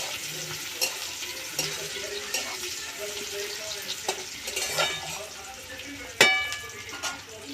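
Chopped onion lightly frying in a pan for a Bengali dal, a soft continuous sizzle with intermittent stirring clinks and one louder clatter near the end.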